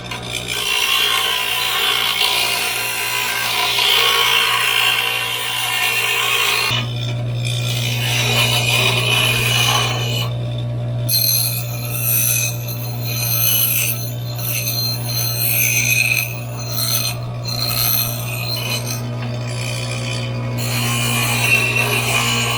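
Bench grinding wheel rounding the edge of a wooden rope maker part on a coarse wheel, a steady motor hum with continuous rasping, abrasive grinding as the wood is pressed against it, close and loud without talk.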